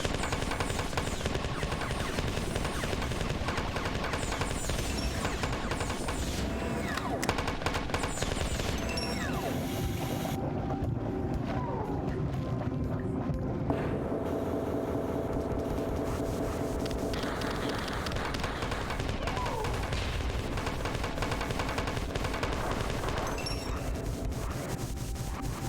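Rapid automatic gunfire from a modded Marathon Eternal game, a dense, continuous barrage of shots over a busy game soundscape, loud and unbroken for the whole stretch.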